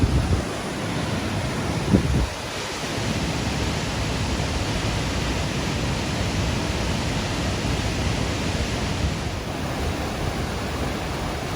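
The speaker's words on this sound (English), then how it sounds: "straight in front of the waterfall, and then the powerful river in the foreground" A powerful waterfall at High Force in the Yorkshire Dales, with a strong river rushing in front of it, roars as a steady, loud broadband wash of water with no break throughout.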